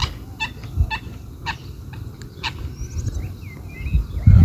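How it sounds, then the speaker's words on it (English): Sharp, repeated calls of a coot ring out in short bursts over a low outdoor rumble, a few loud clipped notes spaced about half a second apart. "the other one's a coot, you can hear."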